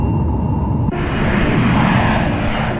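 A fixed-wing airplane roars as it takes off, its loud engine noise continuous and broad, with an abrupt shift in tone about a second in as the sound carries on unbroken.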